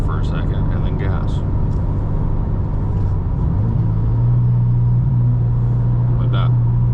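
Subaru WRX engine idling, then rising into a steady, louder drone as it is revved during a manual downshift with throttle blip, with faint talk overhead.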